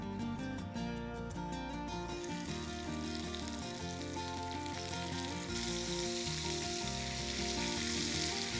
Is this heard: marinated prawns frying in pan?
yes